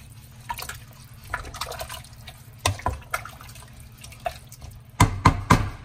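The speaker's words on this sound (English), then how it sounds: "Might want to add a little bit more liquid to it." Liquid being poured into a pot of home-cooked soup, with soft drips and splashes coming in a few short bursts, sharpest near the end, against a low steady hum.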